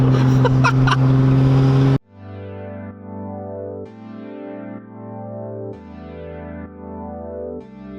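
A 1993 Nissan R32 GTR V-Spec engine revs in rising, falling sweeps, loud and close, after a loud burst of noise at the start; no voices are heard.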